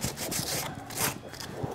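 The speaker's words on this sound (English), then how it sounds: "you're not going to sand it as smooth and as fast as that was just done" Soft body filler being sanded by hand, a steady run of rough back-and-forth rubbing strokes, close and fairly loud, with no talk.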